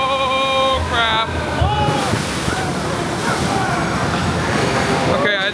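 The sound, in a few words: water ride drop splashing at Disneyland Paris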